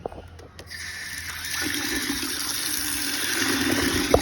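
Water pours from a tap into a container for watering garden plants, starting after a few clicks and running as a steady, close gush that grows slightly fuller as it fills.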